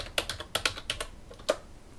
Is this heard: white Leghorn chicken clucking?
no